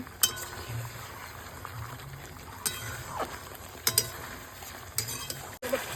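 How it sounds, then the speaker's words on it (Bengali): Meat fried with spices in a pot for biryani, with intermittent scraping stirs and sharp metallic clinks of a spoon against the pot over a faint, steady sizzle, close and quiet. "মশলার সাথে মাংসটা হালকা নেড়ে এইভাবে কষানো হচ্ছে।"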